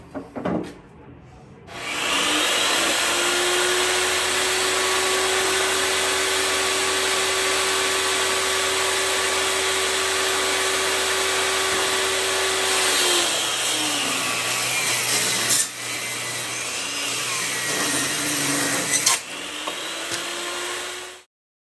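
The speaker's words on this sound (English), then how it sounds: "When I was cutting some of the wider boards in half, I'm cutting off the middle that's not going to be perfectly straight." A table saw cuts wider salvaged boards in half for a workbench, a loud steady whining buzz held for about eleven seconds, then a rougher stretch as the cut finishes and the blade spins down.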